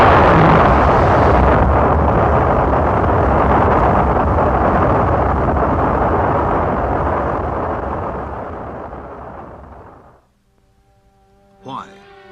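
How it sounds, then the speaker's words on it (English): Early NASA rocket launch carrying an Earth satellite into orbit, a loud, deep roaring rumble that holds strong and slowly fades away over about ten seconds, followed by near silence and a brief faint tone. "This launch carried an Earth satellite into orbit"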